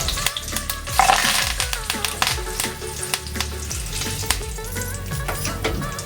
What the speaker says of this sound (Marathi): कढीपत्ता भाजून घेऊया।